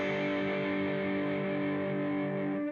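An electric guitar chord from the intro of a song rings out with heavy distortion, one sustained strum held steady and close for the whole stretch before a quick cutoff, no voices.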